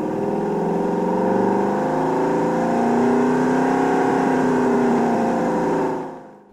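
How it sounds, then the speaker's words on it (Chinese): A car engine tone built by granular synthesis, with millisecond-long grains repeated and recombined. It plays as a steady, close, loud droning hum with layered harmonics and a slight rise in pitch, then cuts away near the end. "然后根据当前参数对这些片段进行重复和组合，这样就能模拟出自然的引擎声"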